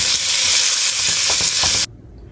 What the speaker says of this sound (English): So then we're gonna add in our bison, and we're gonna cook our bison in with that.